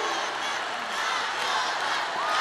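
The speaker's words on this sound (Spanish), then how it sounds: "Les quiere dar este aplauso maravilloso" Audience applause at the Festival de Viña del Mar 2017: a steady, dense wash of clapping from a large crowd, with faint cheering mixed in.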